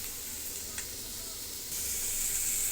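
A whole fish frying in hot oil until charred, giving a steady, close sizzling hiss that grows louder partway through, with a single brief tick near the start and no voices.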